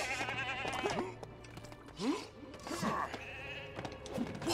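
Sheep bleats from a LEGO Hobbit video game, several wavering cries over a steady game background hum, fairly close and clear.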